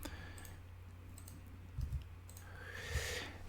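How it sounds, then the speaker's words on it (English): Someone types a login email and password on a computer keyboard, soft scattered key clicks close by in a quiet room with a couple of slightly louder taps. "So I'm going to type mine in here."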